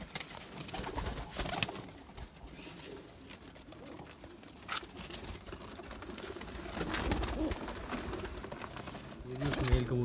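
Zeera (kasoori) pigeons in a home breeding loft coo softly and repeatedly among scattered clicks, wing flutters and handling noises, with a faint voice in the background.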